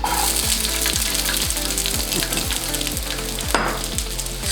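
Onions and vegetables flash fry in scalding hot oil for a restaurant-style chicken jalfrezi, a loud, steady sizzle crackling close up with occasional stirring clatter, no talking.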